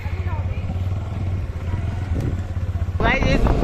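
A TVS Apache RTR motorcycle with a changed exhaust cover runs close by: a low, throbbing idle chugs steadily, then a louder burst of engine sound near the end.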